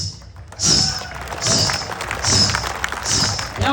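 A comedian's voice imitates the jingling of ghungroo ankle bells in four rhythmic bursts, each a bright shimmering hiss over a soft thump, evenly spaced and close.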